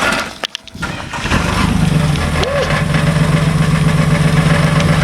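A car engine idles after a sharp start, with a steady low throbbing and a loose metallic rattle from a collapsed rear muffler, heard close and loud throughout.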